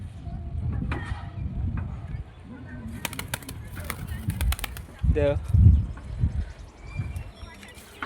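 Pigeons coo in low, throaty bursts with a brief flutter of wings, mixed with nearby talk and some clattering in the background.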